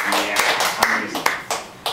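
Audience applause at an anti-nuclear rally meeting in Suginami, a steady wash of clapping with a few sharper claps standing out, fairly close and filling the whole stretch.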